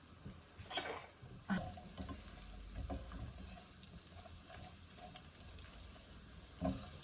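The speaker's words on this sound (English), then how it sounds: "hear the sizzling, so I'm going to turn my heat down" Onions frying in a pan with a low, steady sizzle, broken by a few sharp clatters and stirring sounds close by.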